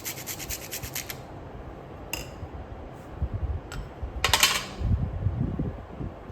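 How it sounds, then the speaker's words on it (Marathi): Half a nutmeg rasped on a grater over a makhana ladoo mixture, several short scratchy strokes with dry metallic clinks and bursts of rubbing, close and clear with no talking. "त्यात अर्धा जायफळ किसून घालते आणि सगळं मिक्सिंग करणार"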